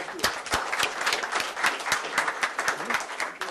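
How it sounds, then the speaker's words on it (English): A room full of workshop participants applauds together, a dense stretch of many hands clapping at steady loudness with individual sharp claps popping out, close and continuous throughout. "can you give yourself a round of applause"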